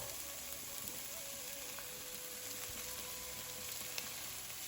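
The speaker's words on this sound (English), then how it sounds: "So once some of the moisture has been absorbed and our onions are starting to stick, we'll go ahead and add our oil." Onions fry in about two tablespoons of oil in a pan, a steady, quiet sizzle with soft crackles throughout and no talking.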